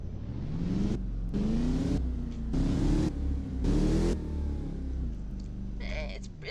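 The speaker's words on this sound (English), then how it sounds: "Got the Mustang. To give it a couple revs." A Mustang engine in the video game Driving Empire revs several times in loud bursts, rising and falling between short pauses, with an idle rumble underneath and a voice now and then.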